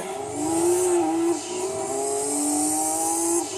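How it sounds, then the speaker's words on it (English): In Gran Turismo 2, a turbocharged race car engine revs hard with rising and falling pitch sweeps as it shifts through gears. The engine is loud, close and continuous, with a high whine over it. "That is definitely one of my favorite noises, though, like a really nice turbo."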